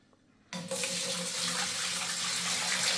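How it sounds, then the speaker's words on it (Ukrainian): Tap water gushes steadily into a container for a meat marinade, starting abruptly after a moment of quiet and continuing loud and close as a broad, even rush. "Для маринаду потрібно 10 літрів води"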